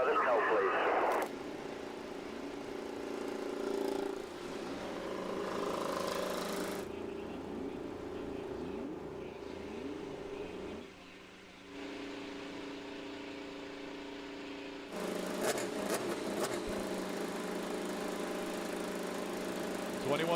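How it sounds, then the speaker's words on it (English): IndyCar race car engines fire up and idle together on the grid at the Alabama road course race, a steady mechanical drone with bursts of revving, under a commentator's voice. "Drivers, start your engines."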